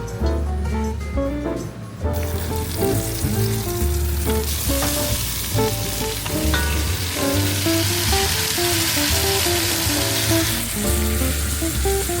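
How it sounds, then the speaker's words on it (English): Vongole clams and lobster sizzle steadily in a hot pan, a constant loud frying hiss with stirring, over background music and no speech. "Cooking vongole and lobster."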